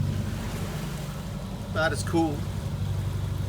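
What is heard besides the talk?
sailboat motoring slowly under engine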